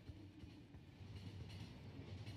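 A train in the video game The Final Station rolls along with a quiet, steady rumble and a faint rhythmic clatter of wheels, heard alone without voices.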